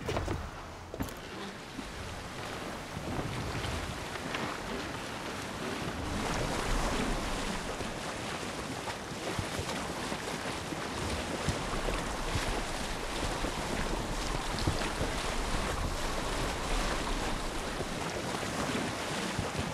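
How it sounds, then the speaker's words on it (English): Boat riding ocean waves in the video game Assassin's Creed Odyssey, with a constant wash of surf and gusting wind building over the whole stretch. "I don't think this boat can take those waves."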